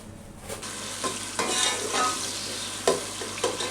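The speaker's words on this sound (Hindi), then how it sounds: "अब मैं इसमें प्याज डालूँगी और इसको फ्राई करूँगी प्याज को" Onions frying in oil for aloo tehri, a close, steady sizzle with a few sharp spatula scrapes and knocks at uneven intervals, no voices.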